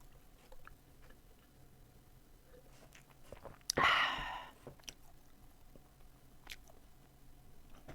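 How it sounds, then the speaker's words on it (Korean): Someone chewing dried anchovies while drinking at home: soft, intermittent crunching and mouth clicks, close and quiet, with one louder rustling burst near the middle and no talking. "멸치 되게 맛있다."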